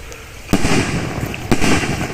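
Two sharp fireworks blasts about a second apart, each followed by crackling bursts, loud and close over a continuous background rumble.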